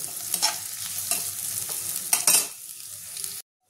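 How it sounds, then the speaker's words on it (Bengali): Curry leaves sizzle in hot oil in a pan while a utensil stirs them in several scraping strokes, the frying loud and close before it cuts off abruptly near the end. "কারি পাতা দিয়ে দিলাম। এটাকে নেড়ে নেব।"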